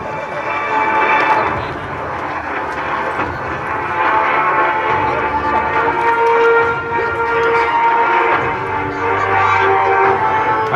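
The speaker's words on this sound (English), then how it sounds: "まもなく離陸が開始されます。" A military jet rumbles loudly and continuously during its takeoff at an air show at Iwakuni, with the engine roar swelling and easing over the crowd and an announcer speaking over it.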